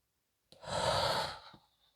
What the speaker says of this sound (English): I'm going to inhale and exhale.